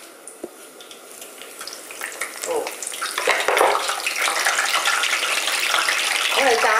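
Hot oil crackles and sizzles steadily, growing louder and busier over several seconds, with occasional clinks nearby.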